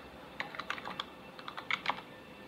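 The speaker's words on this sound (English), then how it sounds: "go to the custom links and type" Fingers tap on a computer keyboard in quick, uneven bursts of light clicks, close and fairly soft against a quiet background.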